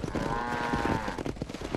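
Cattle in the Red Dead Redemption video game moo in one long, low call during a cattle drive along a road, set against dense busy in-game background noise.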